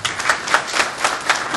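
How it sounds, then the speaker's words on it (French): Hands clap at a Washington DC investiture in honour of a newly installed president, a sparse handful of claps in loose rhythm, close and moderately loud, with no voices over them. "on va essayer d'applaudir pour lui"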